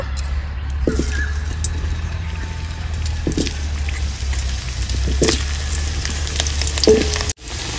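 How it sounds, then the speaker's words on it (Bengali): Potato pieces frying in hot mustard oil in a wok over a village fire, producing a loud, constant sizzle with occasional light stirring knocks. "গরম হয়ে গেছে, আমি প্রথমে আলুর টুকরোগুলো ভেজে নেব।"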